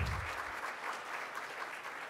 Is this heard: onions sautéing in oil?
no